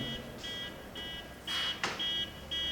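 An electronic alarm buzzes in repeated short pulsing beeps at a steady rhythm, moderately loud indoors during an interview, with no talk over it.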